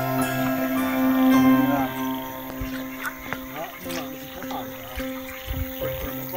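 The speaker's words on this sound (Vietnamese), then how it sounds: "Tiếng ếch kêu ngỏi này." A loud, steady chorus of field frogs croaking in rice paddies at night, with a person talking over it partway through.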